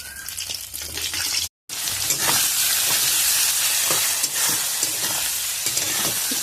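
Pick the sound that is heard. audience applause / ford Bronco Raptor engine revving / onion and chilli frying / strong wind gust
onion and chilli frying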